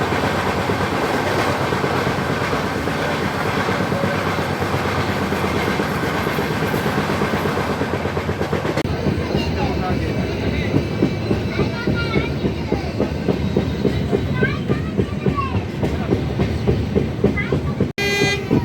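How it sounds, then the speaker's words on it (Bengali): Okha Shalimar Superfast Express passenger train passing at speed, a loud continuous rumble with rhythmic clickety-clack of wheels over rail joints growing more distinct in the second half, with a brief horn-like burst near the end. "এবার আমাদের সাথে দেখা হবে 22905 ওখা শালিমার সুপারফাস্ট এক্সপ্রেস।"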